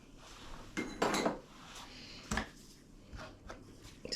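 Flour, salt and sugar being mixed in a bowl for airfryer bread, with a few close scraping and clinking strokes of a utensil against the bowl separated by quieter pauses, no talk.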